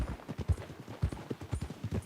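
Horse hooves clip-clopping at a steady trot in Red Dead Redemption 2, regular close thuds about twice a second, fairly loud and alone.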